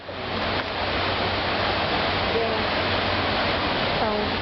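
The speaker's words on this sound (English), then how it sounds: "Look, guys, a waterfall." Water from a canal rushes steadily, loud and close, in a continuous broadband wash through a nature walk in Montana.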